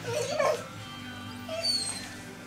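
A dog whines and whimpers outdoors, a couple of high, nasal yips and cries over faint background noise, with a brief second whine near the end.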